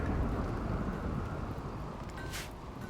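Steady heavy rainfall with a low rumbling roll of thunder in the colony game RimWorld, broad and continuous, with a brief hissing swell near the end.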